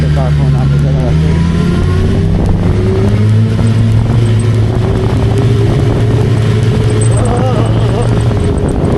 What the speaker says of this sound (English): The car pulling out the other way.